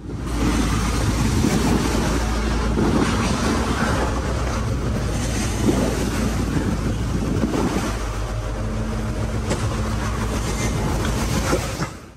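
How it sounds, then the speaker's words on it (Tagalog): A boat crossing rough sea on a four-hour ferry trip from Mindanao to Manila, carrying a Tesla Model Y; a loud, continuous low rumble and churning wash of waves with a steady mechanical drone, no voices. "4 na oras din namin dinanas ang matinding alon na yon."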